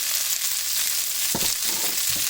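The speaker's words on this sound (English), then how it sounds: "I'm just going to stir fry that around for a bit and let that wilt down" Cabbage and sweet onion stir-fried in a hot pan with salt and pepper, a constant close sizzle with a few scraping stirs of the utensil toward the end.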